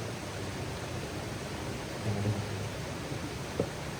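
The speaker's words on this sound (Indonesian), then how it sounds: "nggak ada suara air. Ini suara air" Steady broadband rush of water flowing at the Curug Cihanyawar waterfall in Garut, a constant close wash with a faint low rumble and no voices.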